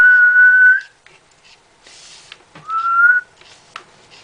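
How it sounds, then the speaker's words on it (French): A person whistles two sustained, slightly rising notes at a handheld game console's microphone to call a virtual dog in Nintendogs + Cats, separated by a pause with small clicks and rustling, close and clear. "Donc je vais siffler, je vais essayer de pas siffler dans vos oreilles."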